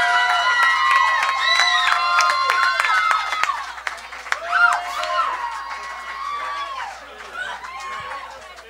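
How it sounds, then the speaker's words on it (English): A concert audience applauds and cheers loudly after a band's set, dense clapping mixed with whoops, whistles and shouting voices that swell around the middle and carry on steadily to the end. "Let's get some applause on that album."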